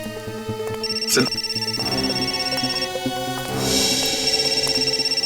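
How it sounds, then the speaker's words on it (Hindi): A phone rings with a bright electronic tone that repeats steadily, accompanied by a busy mix of other sounds and short bursts of noise. "सिद्धार्थ का फोन"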